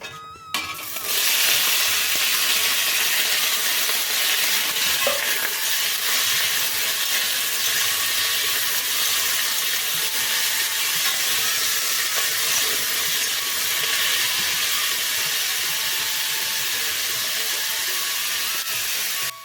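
Potato curry sizzles loudly and steadily in hot oil as a five-spice tempering goes in, a close, continuous hiss that rises sharply at the start and holds.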